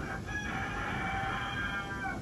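A rooster crows on a small backyard mini farm, one long drawn-out call heard fairly close and clear over a steady background noise.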